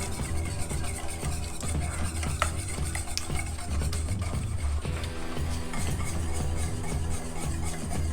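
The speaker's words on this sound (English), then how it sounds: "give it a nice mix to let everything incorporate real well" A spoon or whisk stirring thick brownie batter with six large eggs in a bowl, a steady, close scraping and sloshing that continues without a break throughout.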